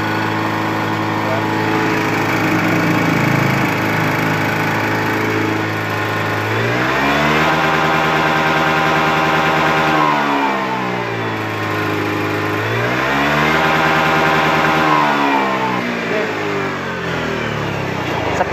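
A Honda Beat ESP scooter engine with a stuttering fault revs hard at high throttle, rising and falling in loud sustained surges that sputter at the top, with voices talking throughout.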